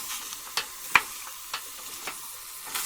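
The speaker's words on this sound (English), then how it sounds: "I'm going to cook this about 5 to 7 minutes until the onions are clear, at least slightly translucent" Onions softening in a soup pot, a faint steady sizzle broken by several soft, sharp stirring scrapes and clinks spaced about half a second apart, fairly quiet overall.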